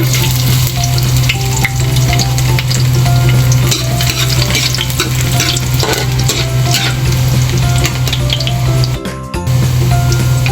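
Garlic sizzles and crackles steadily in a hot pan for a home-cooked pancit, with occasional stirring scrapes and a brief dip near the end before the loud frying resumes.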